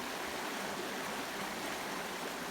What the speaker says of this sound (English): This is the Little Isabella River.